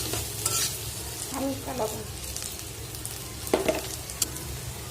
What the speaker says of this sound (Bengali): এগুলোর সাথে আমি কাঁঠালের বিচিগুলোও দিয়ে দিব, কারণ কাঁঠালের বিচিগুলো আমি একসাথে এগুলো ভাজবো